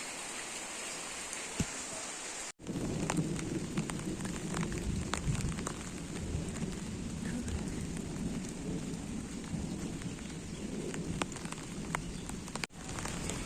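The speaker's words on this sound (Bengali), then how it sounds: "খুব মেঘ ডাকছে আর বিদ্যুৎ চমকাচ্ছে" A heavy thunderstorm with steady rain pouring down and rumbling thunder, recorded indoors by a window as a dense wash of rain noise starts abruptly and continues loud throughout, with low thunder rolling underneath.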